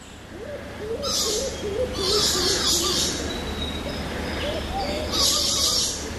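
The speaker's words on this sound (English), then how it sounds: "You can hear the birds." Bird calls ring out in bursts over a steady outdoor hum, with repeated hooting and chirping from several birds at moderate distance in dense jungle on Babanga Island.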